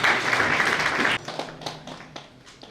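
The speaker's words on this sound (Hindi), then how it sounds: "तालियां रुकनी नहीं चाहिए।" An audience at an all-India neurotherapist convention applauding, dense clapping for about a second that then thins into scattered individual claps.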